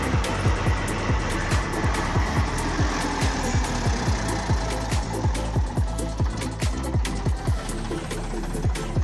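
A used 45-horsepower tractor diesel engine runs at idle close up, thudding in a steady rapid rhythm with a rough mechanical rattle throughout and no voices.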